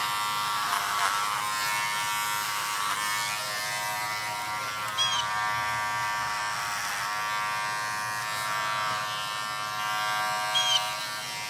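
Electric clippers trimming animal hair for a show, a steady close buzzing hum that runs unbroken for several seconds, with slight changes in pitch and load as the blades pass through the coat.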